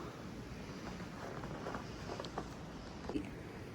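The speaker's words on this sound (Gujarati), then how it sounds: "અને બહાર બહુ જ પવન સખત." Strong wind blowing outdoors, a steady, fairly loud broadband rush with gusty buffeting against the microphone and no voices.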